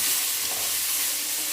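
Chili powder and coriander powder are stirred into tomato chutney in a hot pan, giving a loud, dense hiss of sizzling with soft scraping underneath, steady for the whole moment.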